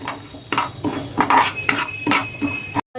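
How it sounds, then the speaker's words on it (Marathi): Broken wheat (lapsi) is fried in melted ghee and stirred in a pan, giving a quick run of rhythmic, close scraping strokes over a crackling sizzle, with no voices. "लापशी जी आहे ती आपण अशी तुपामध्ये घालून चांगली अशी फ्राय करून घेऊया तुपामध्ये चांगली फ्राय करा"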